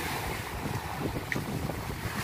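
Rough seas after Typhoon Quinta roll and break continuously while strong wind rumbles across the microphone, a steady loud rush of surf and gusts with no voices.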